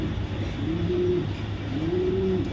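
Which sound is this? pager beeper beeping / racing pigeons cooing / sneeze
racing pigeons cooing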